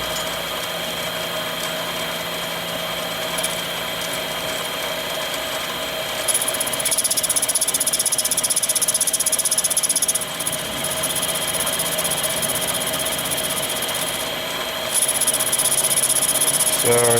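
A metal lathe with a high-speed steel cutting tool turns brass, giving a continuous loud mechanical whine and hum with a high-pitched squealing tone that rises partway through and drops out briefly.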